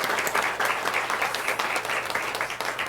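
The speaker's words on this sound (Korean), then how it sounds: "박수로 한번 우리 격려하겠습니다." A congregation claps during a Sunday church service to welcome visiting family members, a fairly full burst of applause at moderate distance that stays steady throughout.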